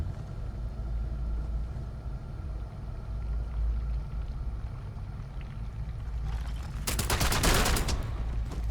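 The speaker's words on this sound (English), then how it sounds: "they shoot" Rapid burst of gunfire from enemies in the video game Starfield erupts near the end, a dense volley of sharp cracks over a steady low rumble of game ambience.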